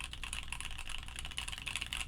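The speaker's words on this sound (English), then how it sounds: "I'm in love with this board already. I don't want to stop typing on it." Continuous rapid typing on a Top Clack J-02 prototype mechanical keyboard, fitted with Top Clack springs, giving a dense run of close clacky keystrokes with no talking.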